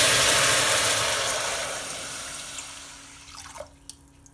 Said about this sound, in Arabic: هنا في هذه المرحله نزيد الماء، وعندكم يطير عليكم